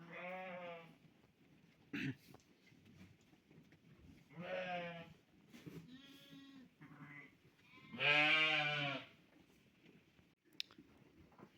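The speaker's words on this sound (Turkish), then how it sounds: "buradaki koyunlar da güzel bir şekilde samanda yiyorlar" Several sheep bleat in turns while eating hay, loud wavering cries with pauses between them, over a soft background of munching and rustling.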